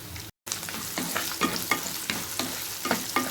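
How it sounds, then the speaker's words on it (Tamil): Mustard seeds crackle in hot oil with dried and green chilies for bitter gourd kuzhambu. A dense, close sizzle carries repeated sharp pops and stirring scrapes throughout, with a brief dropout near the start and no voices. "கடுகு பொரிஞ்சதும் காஞ்ச மிளகாய், பச்சை மிளகாய் போட்டு தாளிச்சிக்கலாம்."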